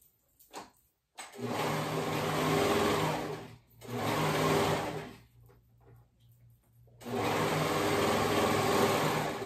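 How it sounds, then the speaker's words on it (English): A sewing machine stitches a sweater sleeve in three loud, steady runs of a few seconds each, separated by quiet pauses with light handling noises. "I'm gonna go ahead and sew this on and do the same to the other sleeve"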